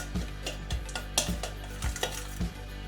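Hot ingredients stirred in a heat-proof bowl for street-style chana chaat, giving a steady rhythm of scraping strokes about every half second with a faint sizzling hiss underneath and no talk.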